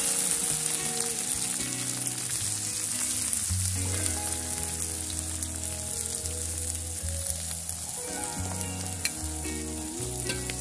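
Cassava shoots fry in a hot pan with a constant dense sizzle and crackle that stays loud and steady throughout, while a tonal hum shifts underneath.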